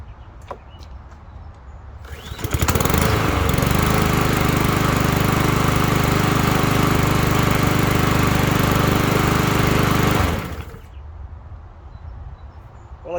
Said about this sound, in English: Okay, so the lawnmower is all fueled up.